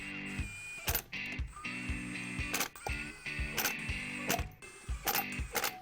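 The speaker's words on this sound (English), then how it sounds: "We're gonna lightly tighten them with our torque gun." A power torque gun runs the lug nuts onto an RV trailer wheel, sounding as a series of loud, close mechanical whirring and ratcheting bursts separated by brief gaps, with no voices.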